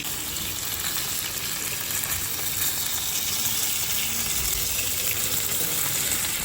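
Shol fish, lightly spiced, frying in hot oil, giving a steady, dense sizzle and crackle that runs unbroken and close throughout, with no voices over it.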